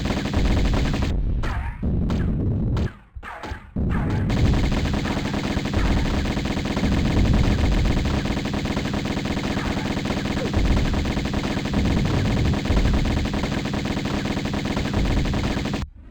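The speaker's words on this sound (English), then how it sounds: "our ancient technology of needle guns" Needle gun fire in the Tomb Raider video game: loud, sustained rapid automatic bursts that continue almost without a break, with a couple of short gaps near the start.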